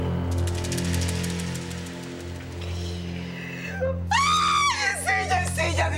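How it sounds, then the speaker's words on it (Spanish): A woman's scream in a Chilean comedy series, high and sustained, rising sharply over steady background music and voices, then breaking into shrill wavering cries. "No grites así"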